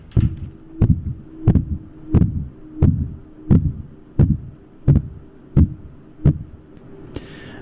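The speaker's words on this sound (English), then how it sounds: "We can audibly hear distinctions between the two atmospheres, with Mars having low, bassier frequencies compared to that of Earth." Simulated recording of a sound as it would be heard through the Martian atmosphere: a steady train of about ten dull, low, muffled thumps roughly every 0.7 seconds, bass-heavy and without voices.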